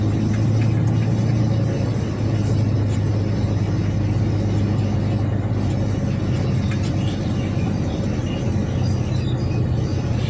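A car climbing and winding along a curving mountain road from Chiang Mai toward Chiang Dao, heard from inside as a steady low engine rumble and road noise that continues unbroken throughout.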